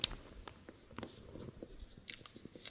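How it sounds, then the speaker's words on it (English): Pen or chalk writing a heading by hand during a science lesson, a run of short scratchy strokes with small taps, close and fairly quiet, no voice over it. "Let me write down heading"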